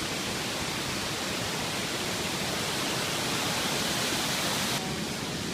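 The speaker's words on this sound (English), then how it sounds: "There's some more waterfalls." Constant broadband roar of a waterfall along a hiking trail, dense and unbroken at steady loudness throughout, with no voices.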